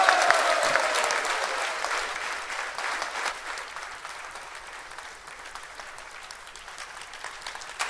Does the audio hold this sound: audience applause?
yes